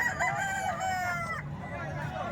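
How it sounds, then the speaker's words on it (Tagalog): A one-year-old rooster crows once in a long, rising-and-falling call at moderate distance, with faint background talk and farmyard noise underneath. "Magandang manok din, oh."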